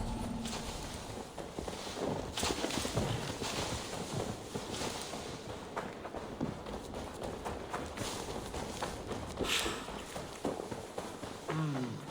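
Horse hooves in Assassin's Creed Valhalla, a steady run of clip-clopping steps close by under ambient game sound, no talk.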